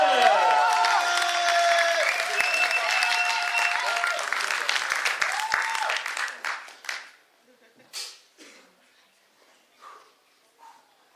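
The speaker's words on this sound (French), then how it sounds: "Messieurs, dames, applaudissez Kitra, s'il vous plaît!" A crowd at a slam poetry night applauds the poet Kitra with sustained clapping that thins out after about six seconds into scattered claps and quiet voices.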